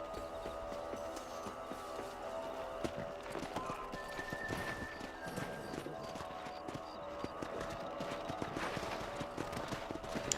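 Horse galloping in the video game Red Dead Redemption, steady rapid clip-clop hoofbeats running throughout at moderate level, with game ambience and faint voices in the background.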